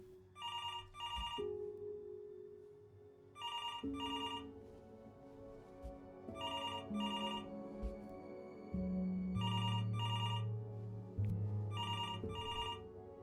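A telephone in the video game Before Your Eyes rings in repeated trilling bursts over soft background music, moderately loud, with no talking.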